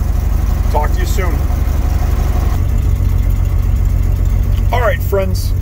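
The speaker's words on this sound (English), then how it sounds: "we'll let it warm up and you can just hear it idle." A 1946 Chevrolet pickup truck engine idles steadily after a cold start in a chilly shop, a low continuous rumble running throughout, with brief bits of a voice talking over it.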